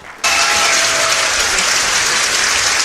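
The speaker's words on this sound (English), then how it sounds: "Let's give him a big round of applause" Loud, dense applause from an audience after a startup pitch at a live event, starting abruptly and holding as a steady wash of clapping with no pauses.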